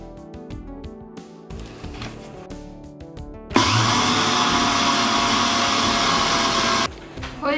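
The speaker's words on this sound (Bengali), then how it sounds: "এই চিনিটাকে থেমে থেমে ব্লেন্ড করতে হবে" A kitchen blender grinds sugar into icing sugar in a short burst, a loud steady whirring roar that starts abruptly partway through and cuts off just as sharply, with quieter clatter on either side.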